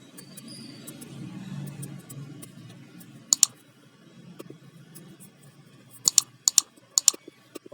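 Keys clicking on a computer keyboard, sparse taps with a few sharp louder clusters of rapid clicks, close and otherwise quiet apart from a low background hum.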